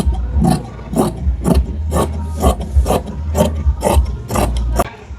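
Fabric being cut into a 2-inch strip for a sleeve during salwar suit stitching, heard as a steady run of rhythmic rasping snips, about ten evenly spaced cuts over a constant low hum, close and fairly loud.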